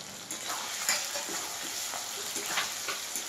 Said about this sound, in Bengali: এই যে আমার চিকেনটাও হালকা হালকা ভাজা হইলে, টমেটোটাও হালকা হালকা ভাজা হইলে